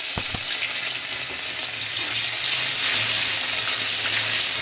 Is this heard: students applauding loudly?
no